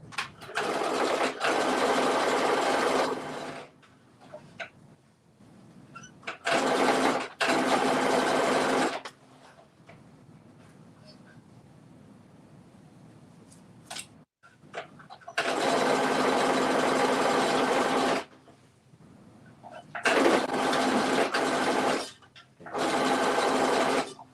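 A sewing machine stitches in long loud runs, stopping and restarting four times with quieter pauses between bursts of steady whirring.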